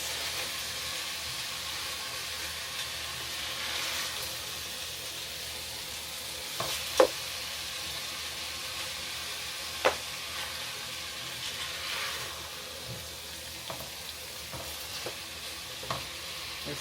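Chicken and vegetables in sesame oil being stirred in a hot pan, a steady soft sizzle with a few sharp utensil clinks and scrapes scattered throughout, no voices.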